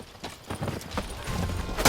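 Horse hooves clip-clop in the video game The Witcher 3, a quick series of close hoofbeats on hard ground under background game sound.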